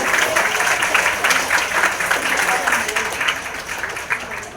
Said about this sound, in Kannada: ನಮ್ಮ ಶಾರದಾ ಮೇಡಮ್ ಅವ್ರಿಗೆ ಜೋರಾದ ಚಪ್ಪಾಳೆ ಅಂತ ಬರಬೇಕು